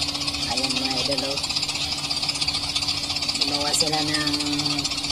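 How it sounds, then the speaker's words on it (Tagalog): A homemade airplane powered by a grass cutter engine, its small engine running as a loud, steady rattling drone with slight pulsing, under someone talking in Tagalog. "Airplane gamit ng makina ng grass cutter."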